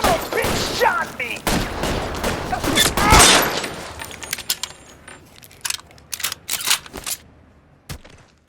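Gunfire from the video game L.A. Noire: a loud burst of rapid shots up front, then scattered sharper single reports and clattering hits trailing off over the next few seconds, with game sound effects around them.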